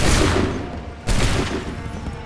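Musket volley gunfire in Assassin's Creed 3: two loud, close crackling bursts of massed shots, the second following about a second after the first, each trailing into a rumbling decay.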